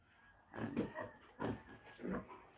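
Young piglets grunting in a farm pen, three soft close bursts of low snorting grunts separated by brief pauses over a faint background.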